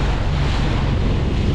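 Ocean waves heard from a boat out at sea off Jamaica on the Pedro Bank during deep-line fishing: a continuous loud roar of water and wind rush, steady throughout with no voices.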